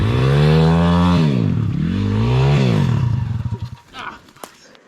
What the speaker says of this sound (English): a pit bike.